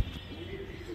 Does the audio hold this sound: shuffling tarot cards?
no